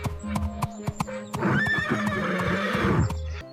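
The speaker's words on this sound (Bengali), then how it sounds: "এই প্রাণী ঘোড়া।" A horse gives a loud, shrill whinny, preceded by a few sharp hoof clops, heard close and clear.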